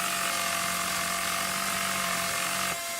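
A power tool in the video game Battlefield: Bad Company gives a loud, steady whirring buzz with a sawing edge, holding constant before cutting off abruptly near the end.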